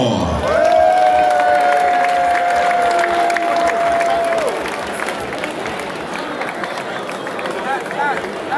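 A crowd at the Bukum Boxing Arena gives a loud round of applause and cheers for boxers Azumah Nelson and an AU ambassador, with a sustained tone ringing over the start. The noise eases after a few seconds but keeps going.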